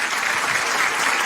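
Studio audience at an Italian radio show applauding, a brief burst of dense, loud clapping from many hands, close and continuous for just over a second.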